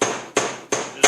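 Three sharp, evenly spaced hammer blows on a metal bar while it is bent down on the floor of an egg mobile, each strike ringing briefly before the next.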